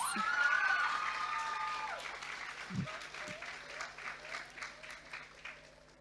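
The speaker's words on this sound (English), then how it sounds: "Give yourselves a round of applause" Secondary school graduates at their graduation ceremony clap and cheer, with a few shouts rising over the crowd before the applause thins into scattered claps and fades.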